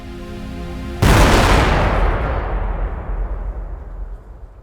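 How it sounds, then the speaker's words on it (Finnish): A C4 charge detonated at the root of a birch tree, a sudden massive boom breaking over a faint tonal hum, then a long rumbling decay that fades over several seconds. "Vaikka räjähdys oli ihan hullu, siis se oli, voi sanoa, että tuplat verrattuna dynamiittiin"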